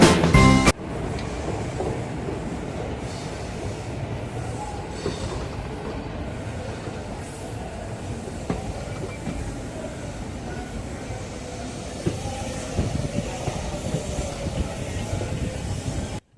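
A passenger train runs along the Dhuri–Rajpura line near Rajpura, giving a steady, loud rumble of wheels on rail with faint clickety-clack and occasional squeal, continuous throughout after a brief opening knock, with no voices.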